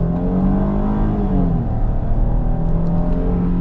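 A 2022 Chrysler Pacifica Limited AWD minivan accelerates at about 4,500 feet elevation, its engine droning loud and close with a rising, steady whir heard from inside and no talking.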